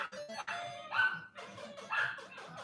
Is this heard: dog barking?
yes